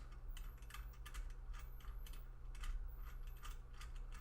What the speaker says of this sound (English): Now I can just tighten these bolts.